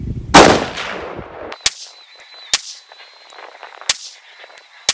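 PSA Sabre rifle in .308 fired at an outdoor range, one loud close report followed by several sharper, fainter cracks spaced about a second apart, with a faint steady tone ringing between shots.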